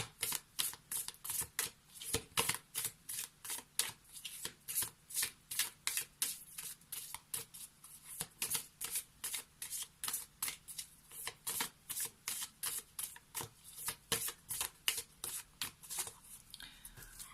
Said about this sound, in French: allez, on va prendre les cartes pour le premier choix.